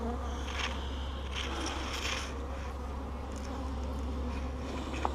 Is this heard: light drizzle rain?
no